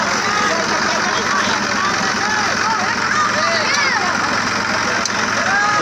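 A tractor engine runs at a steady idle-like drone, loud and continuous, while people chatter in the background.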